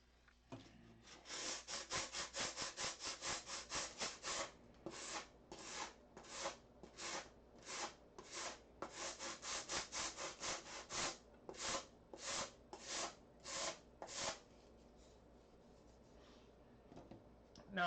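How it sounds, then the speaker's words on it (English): Hand sanding on a foam-core build to knock down a high spot, brisk rhythmic back-and-forth strokes, a fast run first and then slower spaced passes, close and fairly quiet. "Let me get that sanded off."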